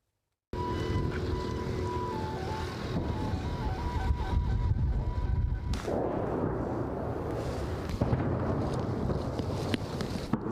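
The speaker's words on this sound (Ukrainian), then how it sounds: "Московити методично і цілодобово розстрілюють Бахмут." Artillery shelling in Bakhmut: a continuous rumbling barrage with dull booms and scattered sharp bangs, a distant tonal hum early on, sustained throughout without speech.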